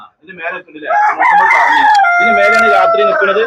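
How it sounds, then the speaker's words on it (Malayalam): A rooster crows loudly and close, a long drawn-out call rising then trailing off, following a few brief clucks. "അതില് പുള്ളിക്കോഴി ഉണ്ട് നാടൻ കോഴി ഉണ്ട്"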